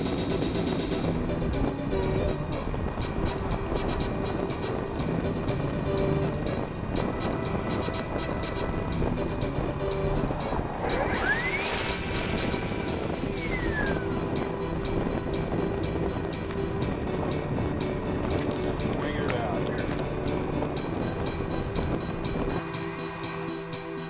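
A remote-control NitroPlanes MQ-9 Reaper model drone plane drones steadily overhead. Its motor whine holds throughout and bends in pitch midway as the plane passes by.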